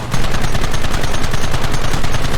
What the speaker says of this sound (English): I'm sitting on a Gatling gun, so it makes sense, I guess